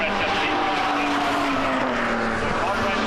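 BMW E46 race cars howl past on a racing circuit, a loud sustained engine note with a slowly falling pitch as they go by, with tire noise mixed in.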